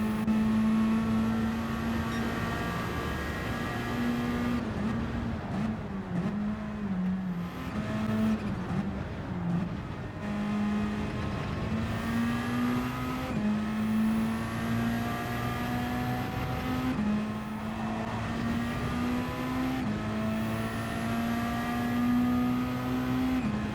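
Race cars in Gran Turismo 7 during a one-hour race at Lake Maggiore, engines whining at high revs with repeated upshifts and downshifts, another car's engine close by, loud and continuous with no talking.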